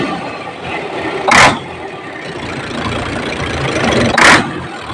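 An Isuzu 6WF1 diesel engine running loud and close in a steady rough idle, with two sharp hissing bursts punctuating the rumble, no talk over it.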